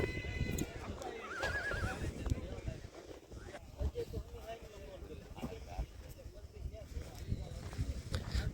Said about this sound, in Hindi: ये है राजस्थान का घोड़ा, 2 दांत, नवाब भाई राजड़ का।